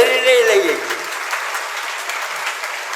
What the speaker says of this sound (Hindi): उसकी तालियां बज रही आज